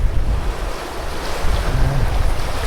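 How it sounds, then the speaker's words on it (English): Strong wind of about 10 to 15 knots gusts over open sea while sailing, a steady, loud roar with wave wash and microphone buffeting and no talk. "The wind is somewhat stronger than I've been expecting."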